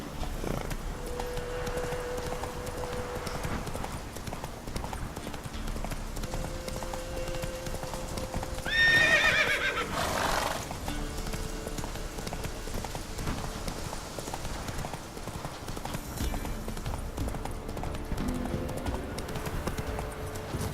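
Horse hooves galloping in The Witcher 3, a continuous rhythmic clip-clop at moderate volume under game ambience and music for about twenty seconds.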